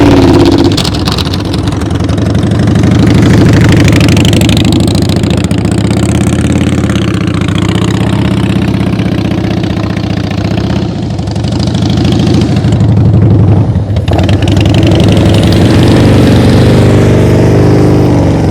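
A motorcycle engine runs steadily at high throttle during slow-speed riding practice, a loud, close, continuous drone with slight fluctuations in revs and no speech over it.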